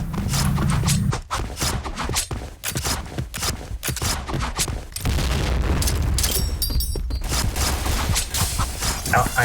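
Explosions and gunfire erupt in a video game: a rapid barrage of loud booms and cracking shots in uneven bursts, followed by a heavy rumbling blast that lingers toward the end.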